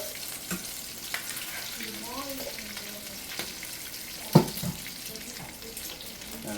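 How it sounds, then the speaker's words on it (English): Meatballs sizzle and spatter softly in hot frying oil as tongs lift them out, with a steady low crackle and one sharper clink of metal partway through. "I'm using the tongs to get them out because I need the flavor in that oil"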